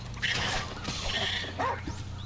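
Dog companion barking in Monster Hunter Rise, quick yipping barks repeating over steady game music and effects, fairly close and moderately loud throughout.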